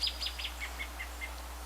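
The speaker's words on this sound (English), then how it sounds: "That's a very loud bird." A bird calls with a string of sharp, high chirps, evenly spaced and fairly prominent against quiet background hiss.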